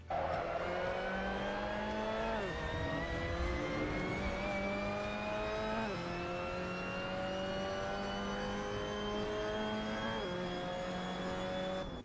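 A race car engine revs hard on a track, climbing steadily through the gears with several sharp downshift drops as it brakes into a corner, loud and close throughout.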